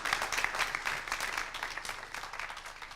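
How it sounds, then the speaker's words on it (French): An audience applauds after a school pupils' presentation at a sports-themed televised event, a moderately quiet, steady patter of many hands that slowly thins toward the end. "Je vous demande encore un grand applaudissement."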